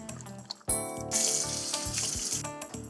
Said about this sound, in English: I gotta go wash my chicken fingers. I've set up a soapy bowl of water in here.